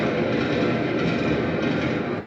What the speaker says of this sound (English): the sound of the train going past